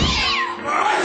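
A cat gives a single drawn-out meow, loud and close, lasting about a second.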